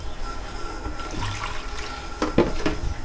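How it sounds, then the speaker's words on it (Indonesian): A bubbling reaction fizzes inside a dry maintenance-free N60L car battery from a Nissan Grand Livina L11, a steady close hiss of foaming liquid with a few louder pops near the end. "Ini sudah ada reaksi gelembung-gelembung"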